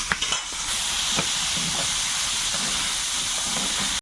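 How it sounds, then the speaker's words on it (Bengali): Potato and eggplant fry in a pan with a steady, close hissing sizzle that starts with a few stirring clicks and runs evenly to the end. "এদিকে উঠছে আলু বেগুন ভাজাটা চাপিয়েছি"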